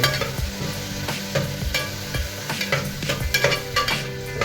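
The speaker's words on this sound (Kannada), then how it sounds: "ಈಗ ಈರುಳ್ಳಿ, ಮೆಣಸಿನ್ಕಾಯಿ ಮತ್ತು ಕರಿಬೇವು ಎಲ್ಲ ಚೆನ್ನಾಗಿ ಸ್ವಲ್ಪ ಹಿಟ್ಟಾಗೋ ಥರ ಫ್ರೈ ಮಾಡಿ" Onion, green chillies and curry leaves frying in a pan for bachelor-style palav, a loud close sizzle with repeated scraping and stirring strokes of a spatula.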